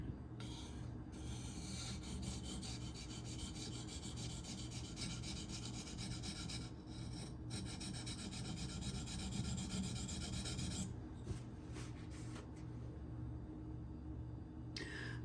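An ESEE Izula II knife edge is drawn across a sharpening stone in repeated, steady rasping strokes, close and alone, with brief pauses between passes.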